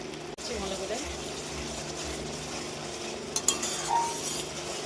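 Ghugni, a Bengali spiced pea curry with coriander powder, is stirred and sautéed in a pan with soft scraping and clinks. A few sharper clinks come near the end, and a low steady hum runs underneath.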